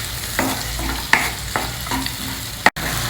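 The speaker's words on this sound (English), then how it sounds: "adding 2 tomatoes, also roughly chopped, and fry them also for a minute or 2 till they become soft" Roughly chopped tomatoes fry in a pan beside onions, with a continuous sizzle and several sharp spoon-stirring scrapes at irregular intervals. No voices.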